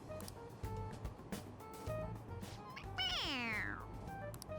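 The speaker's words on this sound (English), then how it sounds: "It meows when you press on its head." A stuffed toy cat in the video game Persona 5 Royal gives a single clear, drawn-out meow when pressed, with a falling pitch, heard over steady background game music.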